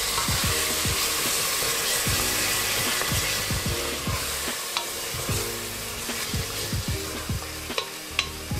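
Tomatoes and green chilies fry in a masala base for a green chana curry, a steady close sizzle with repeated scraping stirs throughout and no talk.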